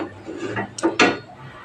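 A metal tawa griddle set down on a lit gas stove: two quick, close clanks of metal on metal within about a second, over a faint background hiss, with no voices.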